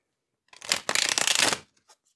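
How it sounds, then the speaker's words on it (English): A deck of tarot cards is riffle-shuffled once up close, a quick rapid fluttering burst followed by a couple of soft taps. "Shuffle the deck."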